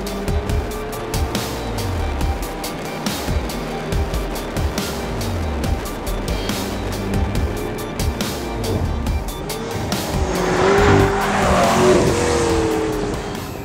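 A 2014 McLaren MP4-12C Spider supercar drives hard, its engine revving through rising and falling gear pulls with sharp shift breaks, loud and close, swelling into a louder rush near the end.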